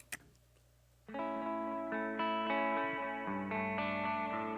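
Sustained, chord-like instrument notes processed through an Echo Boy delay plugin and a Memory Man style delay, panned wide, with smeared repeats and layered harmonics swelling in after a brief quiet start, loud and steady with no voices.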